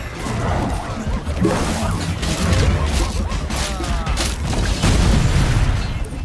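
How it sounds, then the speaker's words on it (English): Bomb blasts from the game Okhlos, heavy booming and crashing that layer into a dense, loud, continuous barrage of impacts and battle noise, with no gaps. "That was a bomb I just used."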